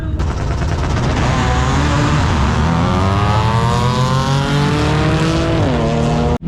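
An Audi car accelerates hard at a car meet, its engine revving up through rising pitch with crackling pops and a brief tire squeal, loud and close, then the roar cuts off abruptly near the end.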